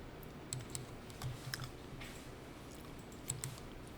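Keystrokes on a computer keyboard during accounting data entry, a quiet run of light, irregular clicks with a few sharper taps, close by and with no voices.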